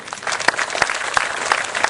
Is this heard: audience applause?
yes